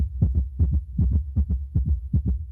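A heartbeat recording plays on a broadcast show, a steady lub-dub thumping in paired low beats repeating about every half second, close and loud with no talking over it.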